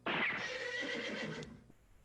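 A horse neigh sample triggered from music software during a virtual music class, a single loud whinny rising then trailing off over about a second and a half, alone without talk.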